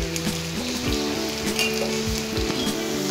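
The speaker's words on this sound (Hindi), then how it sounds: "हम थोड़े थोड़े डाल के तलेंगे" Pieces for a vegetable dish fry in hot oil, giving a constant bright sizzle with bubbling crackles and occasional soft stirring, close and alone.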